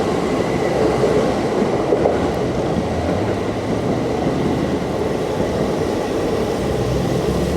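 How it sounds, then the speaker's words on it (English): A yellow limited express train passes close by in Tokyo, a steady loud rumble of wheels on rails holding for several seconds without letup. "there's a limited express from the other side as well. And it's yellow."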